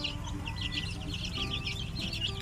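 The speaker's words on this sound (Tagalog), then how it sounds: "i-update ko na sa inyo yung ating uh, mga sisew yung mga manok natin na native" Native chicks and hens peep and cluck in a busy chorus, with steady chirping over a low background rumble.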